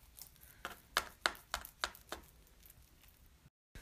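A knife slices through a homemade sushi roll of cucumber, crab salad and cream cheese wrapped in vinegared rice, giving about six soft, close chopping taps in an uneven rhythm before the sound cuts out.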